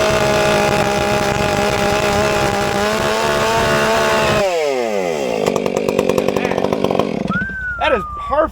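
A 500i chainsaw cutting firewood runs loud and steady at high revs, then the engine note drops and sputters near the end as the cut finishes and the saw idles.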